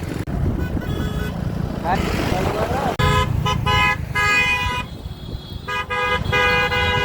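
Busy road traffic on the way up to the Saptashrungi temple hill: repeated car and motorbike horns honk over a constant engine rumble, loud and close, with voices mixed in.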